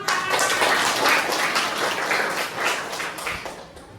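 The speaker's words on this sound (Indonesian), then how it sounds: "Tepuk tangan" A primary school class claps hands together in the classroom, a burst of many small hands applauding at once that swells and gradually fades.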